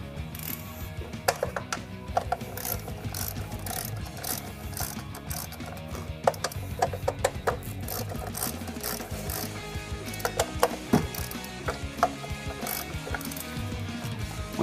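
A 3/8 ratchet fitted with an extension and a 10mm socket loosens spark plug bolts, its pawl clicking in quick, repeated runs of close, crisp ticks over a steady low background.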